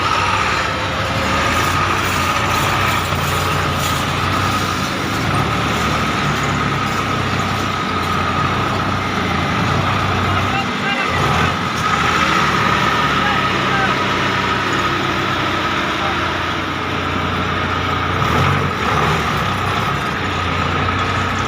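A heavy tractor engine labours loudly and steadily under strain climbing a steep hill, with voices talking over the rumble at times.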